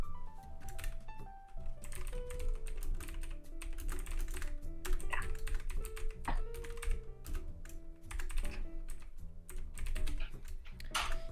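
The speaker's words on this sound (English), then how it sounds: "Typity type type." Rapid steady typing on a computer keyboard, close and clear, with irregular clusters of key clicks and no talking over it.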